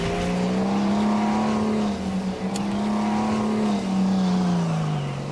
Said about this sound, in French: C'est le bruit typique d'un 6-cylindres